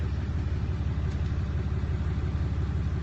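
A car engine runs with its exhaust note, a steady pulsing low rumble close by, idling evenly without any talk over it.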